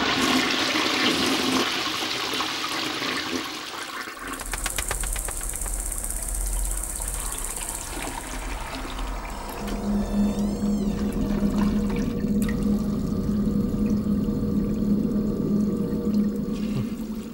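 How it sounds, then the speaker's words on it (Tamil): A malfunctioning toilet flushes with a loud rush of water, then keeps running in a steady gurgling stream with a low droning hum underneath, lasting throughout. "ஃப்ளஷ்ல ஏதோ ப்ராப்ளம் நினைக்கிறேன்."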